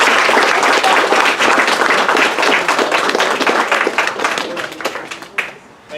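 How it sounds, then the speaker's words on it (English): An audience at an Eagle Scout court of honor claps loudly and close for a new Eagle Scout, a dense burst of individual hand claps that thins and tapers off near the end. "Let's give our newest Eagle Scout one more round of applause"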